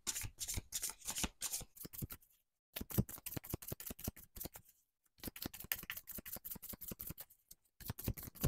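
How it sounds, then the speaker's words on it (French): Tarot cards from a cosmic tarot deck are shuffled and handled in quick, crisp rustling bursts with brief pauses between, then drawn one by one. The sound is close and moderately soft, with no voices. "Je vais mettre notre dos de deck ici et découvrons le deuxième tirage."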